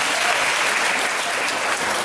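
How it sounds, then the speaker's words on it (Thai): An audience at a university talk breaks into applause, a loud, unbroken roar of many hands clapping at once that stays full and even throughout. "ดีมากเสียงปรบมือให้เราครับ"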